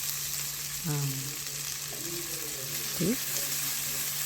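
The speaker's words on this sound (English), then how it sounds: "here we're going to cook our onions to a translucent" Onions sizzle in a hot pan as they cook down toward translucent, a steady close frying hiss running under a voice speaking throughout.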